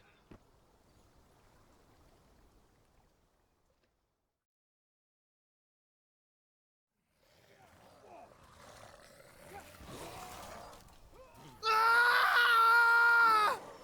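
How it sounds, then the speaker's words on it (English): A man's scream as a sound effect in a Witcher fantasy audiobook: near-silence, then faint rustling and murmur, ending with a short loud, harsh scream near the end of the clip. "A scream. A man's, I think."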